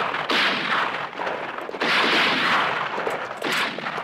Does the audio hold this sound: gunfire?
yes